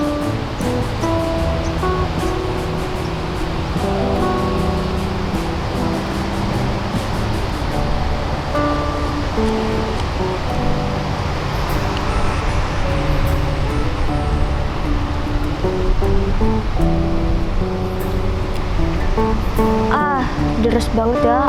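A strong, fast river current rushes steadily, a dense, continuous roar of water close by with no let-up, while faint music-like tones and a voice sit underneath.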